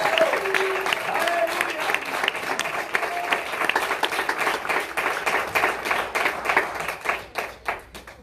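A church congregation claps loudly together, dense sustained applause that thins into scattered individual claps toward the end.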